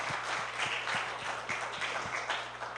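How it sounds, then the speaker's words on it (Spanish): A church congregation claps in steady rhythm, a dense wash of hands filling the room with a regular pulse beneath it, sustained and fairly close throughout. "¿Quién puede darle un amén a Dios y un aplauso?"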